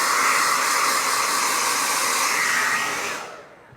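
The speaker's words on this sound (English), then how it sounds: "I'm going to turn on my hair dryer" A hair dryer blows with a loud, steady whooshing roar close by, then shuts off and quickly winds down to silence near the end.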